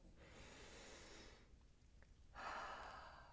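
A slow, controlled exhale through the mouth during a seated breathing exercise, audible as close, breathy rushes of air with a brief quiet gap in the middle, alone without speech.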